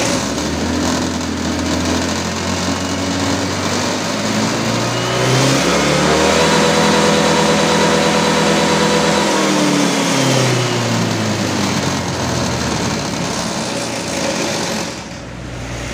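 A Honda motorcycle engine, hooked up for fuel-trim diagnostics, idles loudly and close, then revs up as the throttle is pulled, holding a higher pitch before dropping back down. No one speaks.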